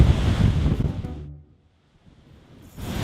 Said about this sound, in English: You have the beach right here